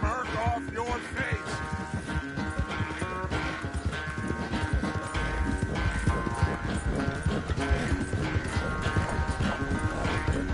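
Horse hooves clip-clop steadily in a PlayStation 4 video game, a continuous rhythmic trotting under a dense layer of game music and ambience, with no clear talk over it.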